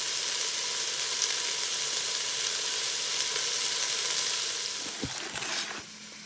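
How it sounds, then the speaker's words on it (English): Oxtails fry in a pan with a steady, close, hissing sizzle throughout, and a couple of brief knocks from the pan near the end. "While the oxtails are cooking"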